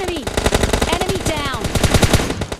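Rapid automatic gunfire from PUBG Mobile Lite rattles in fast, evenly spaced bursts, loud and close, with faint in-game sounds mixed underneath.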